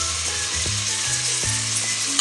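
Chicken with tomato and green chili fries in a pan, giving a loud, steady, close sizzle with a few soft stirring bumps and no talking.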